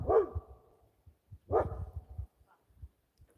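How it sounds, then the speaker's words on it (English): Two sharp dog barks about a second and a half apart, fairly close and loud, with softer shuffling and thumps between and after them. "the dog's barking at her."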